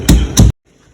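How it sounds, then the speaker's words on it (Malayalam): Two heavy, close thuds of a pestle crushing spices in a mortar, evenly spaced, followed by quiet. "നമുക്കിതൊന്ന് ചതച്ചെടുക്കാം."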